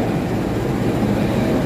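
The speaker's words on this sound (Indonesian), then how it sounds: "Kayaknya kereta api Logawa berhentinya di sini nggak lama deh." Passenger train KA Logawa at Kroya junction station in Indonesia, a steady low rumble and drone of the train running or idling close by, continuous and fairly loud with no voices.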